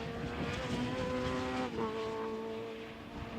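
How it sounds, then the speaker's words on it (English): Super Touring race cars lapping Knockhill circuit, engines droning steadily with rising and falling pitch as they pass, a continuous loud mechanical roar with no talk. "And just listen to those beautiful Super Tourers as they go around Knockhill here."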